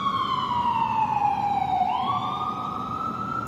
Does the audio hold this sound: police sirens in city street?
yes